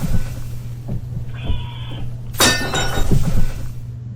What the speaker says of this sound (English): As he watches, it suddenly shatters into pieces.